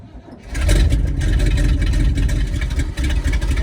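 The engine of a 1977 Chevy C65 oil rig truck starts after a brief quiet moment, then runs with a loud, steady, rumbling idle at close range, a low throb under rattly mechanical noise.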